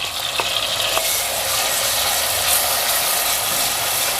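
Onions frying in hot oil with whole garam masala spices for a bottle gourd and chana dal curry, a steady close sizzle with a few faint clinks of a utensil early on.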